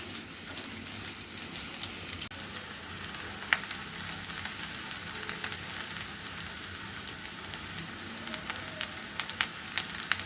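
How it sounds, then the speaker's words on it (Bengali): Onions frying in oil in a pan, a steady crackling sizzle with scattered sharper pops throughout, close, moderately quiet and unbroken, with no talking. "এখন আমি এগুলোকে একটু ভেজে নেব।"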